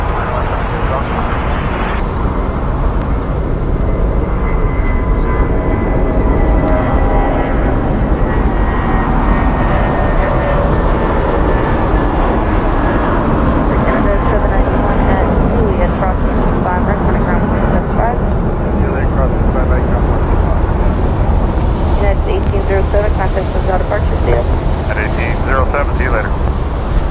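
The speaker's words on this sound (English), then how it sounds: "That is Delta Airlines Flight 766 about to depart to Raleigh-Durham" A Delta Airlines Boeing 737-900ER jet departing Los Angeles International Airport, a loud sustained engine roar with shifting whine tones that swell and fade across the long stretch, people talking intermittently over it.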